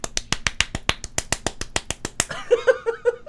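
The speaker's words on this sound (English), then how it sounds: "That was me clapping." A rapid, even series of sharp hand claps, about fifteen in quick succession, followed by a few softer clicks and rustles.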